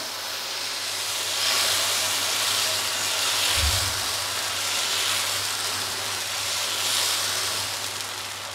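Batter poured onto a hot, oil-brushed pan sizzles with a broad, steady hiss that fills the moment, rising slightly and holding evenly, close and loud with a brief low thump near the middle.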